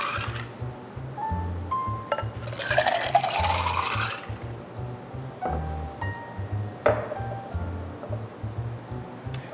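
A Bloody Mary is poured and mixed in a glass: liquid glugs and splashes, with wet squishing stirs and a rhythmic low thumping underneath, swelling into a louder pour midway.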